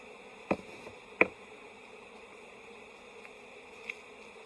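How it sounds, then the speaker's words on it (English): Honey bees buzz around spun honey frames with honey residue in an open box during a fall hive inspection, a faint, steady hum with a couple of soft knocks and clicks. "It'll attract the bees."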